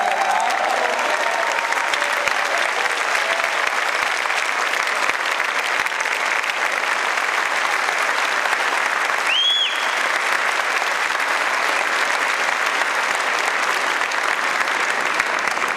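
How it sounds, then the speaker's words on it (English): Steady, dense applause from a large crowd fills the whole stretch, sustained and even throughout, with a brief higher whistle-like tone partway through. "Let's give a round of applause to these"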